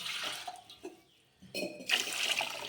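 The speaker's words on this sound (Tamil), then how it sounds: "இன்னும் தண்ணி ஊற்றிக்கிறோம்." Water poured into a pan of lentil ball curry, a close splashing rush that briefly pauses, then returns as a louder, bright, steady pour.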